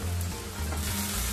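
Spice masala and chopped chilies fry in hot oil in a pan, giving a brief, loud, dense sizzle close by with no voices.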